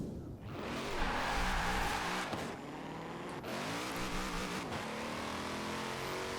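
An underpowered car on a drag tune in Forza Horizon 4 accelerates with a sustained engine roar, its pitch climbing through gear changes, loud and continuous throughout.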